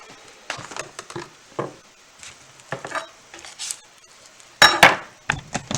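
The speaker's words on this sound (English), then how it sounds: "I take the bottom end of the knife to cut into the onion." A kitchen knife cuts into an onion, giving scattered crisp crunches and taps on a board, with a louder cluster of chopping hits near the end, close and alone.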